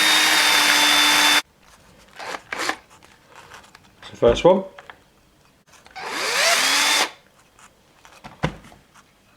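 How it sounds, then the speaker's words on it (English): Short bursts of a small drill whirring in slow, intermittent runs, separated by quiet gaps, with brief handling clicks and a voice speaking once. "drill very slowly."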